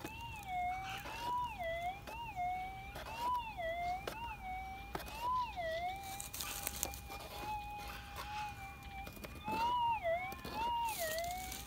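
A metal detector's electronic target signal warbles up and down in repeated swooping pulses, steady and fairly loud, with faint background noise and no talking.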